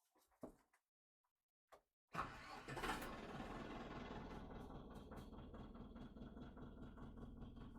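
An ENEY TB504 tractor engine cranks and catches after a few door-like knocks, then settles into a steady, even, close idle that runs unbroken to the end.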